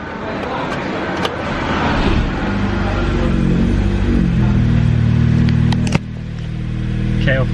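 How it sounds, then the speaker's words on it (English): A VW GTI fitted with a K04 turbo starts for the first time and runs at a loud, rumbling idle close by, with a few sharp clicks and knocks. "First actual start of the K04 GTI"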